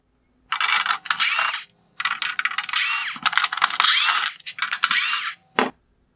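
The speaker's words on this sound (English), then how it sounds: "I'm going to remove the T20 screws from the top of the projector" T20 Torx screws come out of the top of a 2019-2021 Porsche Cayenne LED headlight projector under a ratcheting driver, several loud, close bursts of clicking whir separated by short pauses.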